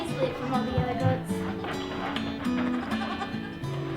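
Goats bleat repeatedly on a goat farm in the morning, several overlapping calls near and far in an irregular chorus, with a few quiet sounds of movement.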